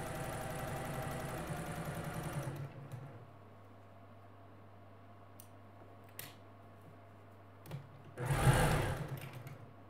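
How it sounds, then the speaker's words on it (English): A sewing machine stitches a quarter-inch seam on a quilt block, a soft steady mechanical whir for a few seconds before stopping, then a brief louder burst near the end amid faint handling clicks. "sewing machine, I'm going to backstitch just a tiny bit"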